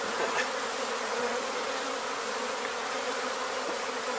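A swarm of honey bees buzzes continuously at close range during a bee removal in Weslaco, Texas, a dense, steady drone with no speech.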